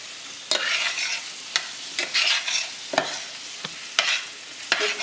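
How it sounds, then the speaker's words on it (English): Flour being stirred into a hot pan for gravy, with a soft sizzle and a few sharp scrapes of a utensil at regular intervals, close and moderately loud with no talking. "And I'm just gonna cook this flour in."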